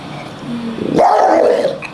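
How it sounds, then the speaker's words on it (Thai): A dog gives a short, gruff bark rising out of a low growl, close and loud, a single throaty outburst in a quiet room. "อยู่ๆทำไมถึงเห่าผม"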